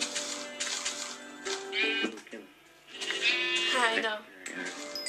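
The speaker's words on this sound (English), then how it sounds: "Oh, look, there's a bunch of sheep over there." Several sheep bleat in the Minecraft video game, giving wavering, nasal cries that overlap in repeated bursts, close and fairly loud, with no talk over them.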